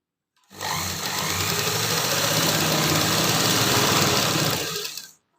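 Sewing machine stitching a pocket onto a pair of pants or palazzo trousers, running in one steady, loud, continuous whir for several seconds before stopping abruptly.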